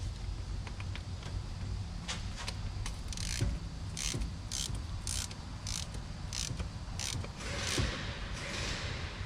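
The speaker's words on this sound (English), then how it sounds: "then go ahead and take your ratchet." A hand ratchet snugs a plug on a Tremec TR-3160 manual transmission, producing a series of quiet, evenly spaced clicking pawl ticks over a low background hum.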